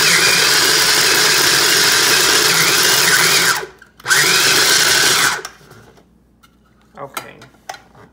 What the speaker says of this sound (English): These small food processors come in handy, but they really don't like to be overfilled